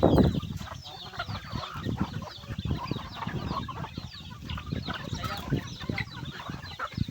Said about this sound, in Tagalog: Maraming manok dito guys.